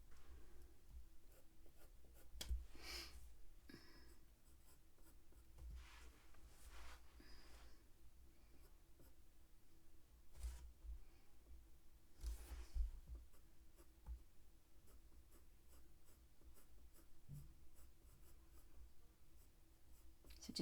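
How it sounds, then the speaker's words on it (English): Light coloured pencil strokes scratch steadily across paper while layering orangey brown tones for realistic fox fur, a soft continuous rasp with occasional brief louder bursts, close and quiet. "keep the strokes of the pencil light"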